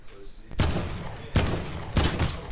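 Gunfire in a console shooter's arena duos mode comes in three loud, close bursts of rapid shots, each cracking sharply and then fading briefly before the next volley.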